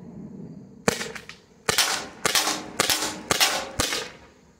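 A CO2 air gun launcher fires six sharp shots, loud and close, spaced roughly half a second to a second apart, each a crisp pop with a short decay, and no voices over them.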